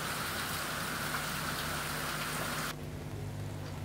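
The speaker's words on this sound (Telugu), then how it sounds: "చూడండి వర్షం అలా పడుతూనే ఉంది" Steady rain falls on a rainy day, a constant, close hiss of drops with no break that eases slightly near the end, and no voices.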